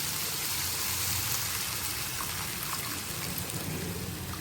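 Water poured into a pan of sautéed carrots and beans while cooking bread biryani: a close, continuous splashing hiss with no voices.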